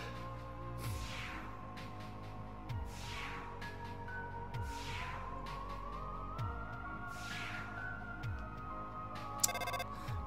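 Undertale video game phone ringtone: an electronic ring repeats about every two seconds, each ring a rising, sweeping chime over steady game background music.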